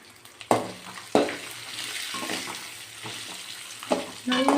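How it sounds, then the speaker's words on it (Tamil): Green chillies and garlic sautéing over a low flame in a pan for a mint and coriander chutney, with a steady soft sizzle broken by several sharp scrapes and clatters of a stirring spoon. "மிளகா பூண்டு எல்லாத்தையும் போட்டு நல்லா வணக்கிடணும்"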